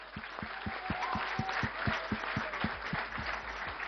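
An audience at an award ceremony in Delhi honouring Olympic medalists claps in a steady, evenly paced rhythm, a moderately distant crowd beating time together over a faint background murmur.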